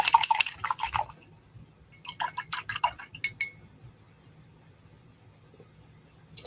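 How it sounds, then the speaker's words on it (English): A paintbrush is swished and tapped in a water container, making quick watery clinks and drips in bursts, then fading into near silence. "I'm going to wash my brush."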